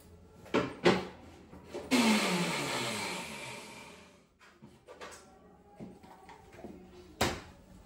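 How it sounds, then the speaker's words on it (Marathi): Mixer grinder whirring through cashews, sugar and cardamom in one loud burst of a couple of seconds that spins down, framed by clicks and knocks before and after. "आणि मिक्सर मध्ये आपण फिरून घेऊया।"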